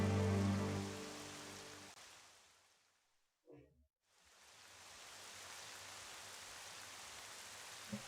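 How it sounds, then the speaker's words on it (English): Steady rain hisses as broadband noise, starting under a fading game soundtrack, dropping briefly to near silence with a short bump, then returning as a constant, moderately loud downpour. "It is raining in real life and it is raining in game."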